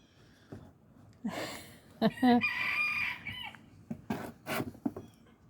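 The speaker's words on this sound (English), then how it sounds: "My little rooster is starting to yell this morning." A young rooster crows nearby in the morning amid other clucking and rustling sounds, with brief thumps and clatter around it.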